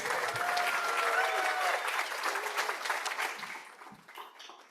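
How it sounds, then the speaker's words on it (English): An audience applauds an honoree at a school alumni awards evening, steady dense clapping from a large crowd that gradually thins toward the end. "let's give Mark Bowling a rousing round of applause"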